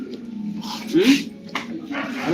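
A dog lets out a few short whines and yips up close, mixed in with people talking nearby.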